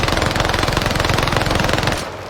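Rapid automatic fire from an assault rifle in Warzone Caldera, a loud, steady stream of close, evenly spaced shots for about two seconds that then stops abruptly.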